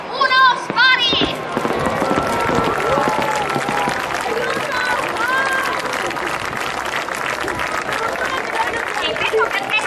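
Pyrotechnic shots fire from display aircraft of the Pioneer Team at the Jesolo air show in Italy, a dense run of crackling bursts and pops over continuous crowd noise and voices.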